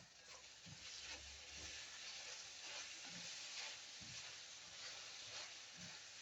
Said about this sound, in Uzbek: Piyozlarimiz yaxshi qovrilishi kerak.